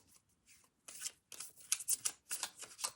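Tarot cards being shuffled by hand, a close, crisp riffling and flicking in quick bursts that grow busier after the first second, with no talk.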